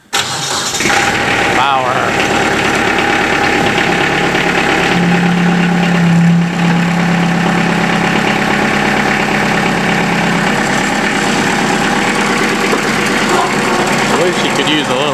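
An old diesel engine with glow plugs cranks and fires, then settles into a loud, steady, knocking idle, with someone speaking briefly over it.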